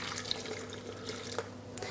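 Homemade apple juice poured into a blender, a steady, faint trickling liquid stream with a few small splashy drips on top, heard close up and without talking.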